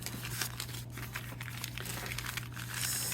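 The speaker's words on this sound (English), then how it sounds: "So that's all I'm doing with these, is I'm just folding them." Paper bags are folded for a junk journal, giving continuous close crinkling and crumpling with soft rustles and brief crisp snaps, steady throughout with a low hum beneath.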